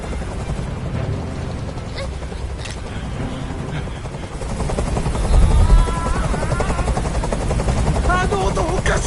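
Helicopter hovering overhead during a hostage standoff in the video game Detroit: Become Human, a steady droning rotor thrum that swells louder partway through, heard alone without talk.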